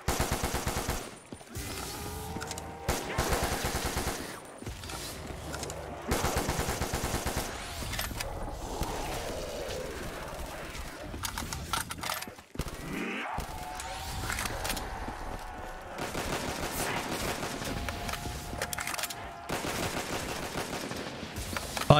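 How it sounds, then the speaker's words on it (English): Rapid, sustained bursts of automatic gunfire from a weapon in a zombies video game, loud and continuous with short pauses between long strings of shots and other game effects mixed in. "You know it's bad when you are shooting it to the very fastest possible way that you can, and it won't do a thing."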